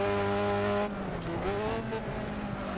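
A race car in Wreckfest slides as its rear end steps out, with a steady engine drone and tire squeal shifting in pitch as the car drifts. No one talks.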